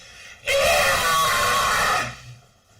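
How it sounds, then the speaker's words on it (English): A loud, sustained, high shriek rising from beneath creaking church floorboards, lasting about a second and a half before cutting off into quiet. "You hear coming from below the shriek."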